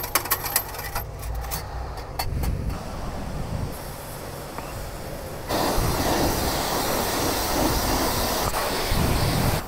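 A broad, hissing spray of water washing a motorcycle runs for several seconds after some clattering knocks, growing louder midway and continuing steadily to the end.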